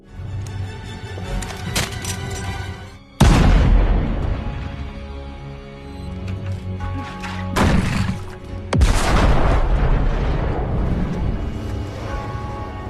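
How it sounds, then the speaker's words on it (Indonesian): Gunshots ring out in an action film, with loud sharp broadband blasts near three and eight to nine seconds standing out over a dense dramatic score and rumbling background. "tiba-tiba muncul seseorang yang menembak Noel"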